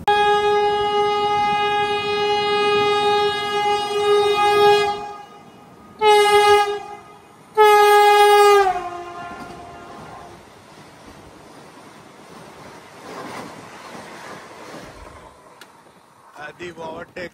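A Vande Bharat Express on the Indore–Nagpur route overtakes a stationary train, its loud horn blaring in a long sustained blast followed by two shorter ones, then the rushing clatter of the passing coaches fading away.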